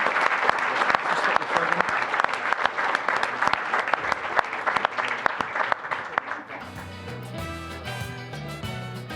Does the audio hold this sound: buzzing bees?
no